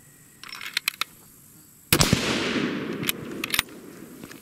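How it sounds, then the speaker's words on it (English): A rifle firing a Hornady 174-grain ELD-VT bullet loaded with Vihtavuori N140 powder, one sharp loud report followed by a decaying echo, with a few faint clicks before and after. "we're still shooting that same bullet. But we're going to give that a shot."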